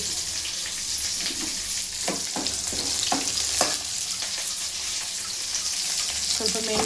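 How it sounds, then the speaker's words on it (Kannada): Curry leaves frying in oil over a low flame, a steady close sizzle with crackling bursts and occasional stirring scrapes, no voices over it. "ಈಗ ಕರ್ಬೇವು ಸೊಪ್ಪು ಲೋ ಫ್ಲೇಮಲ್ಲೇ ಮಾಡ್ಕೊತಿದ್ದೀನಿ"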